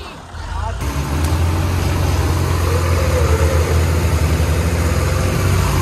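A tractor pulling a loaded trolley rolls into a house compound for filling work, a steady close, loud engine rumble running throughout with people talking over it.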